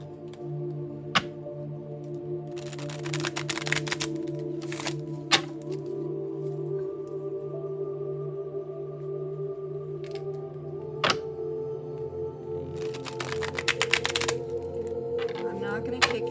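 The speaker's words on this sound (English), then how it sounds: "The thought deck will give us more insight. 1, 2, 3. Let's do 3 shuffles." A deck of tarot cards being shuffled in two bursts of riffling, with scattered card taps and clicks in between, close and fairly soft over a steady low hum.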